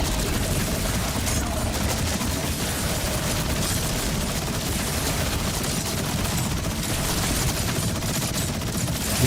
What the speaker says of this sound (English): I should have started shooting sooner.